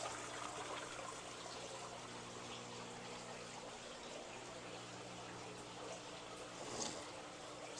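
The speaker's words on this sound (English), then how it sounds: "We have two waterfalls, one right there and another one right here." Water spills from two waterfalls into an 800-gallon indoor fish pond, a soft, steady trickle and splash that stays faint and continuous throughout.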